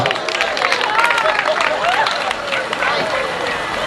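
A crowd claps hands at a birthday gathering for a fan favourite at a market, a steady dense patter of applause mixed with cheering voices and crowd hubbub.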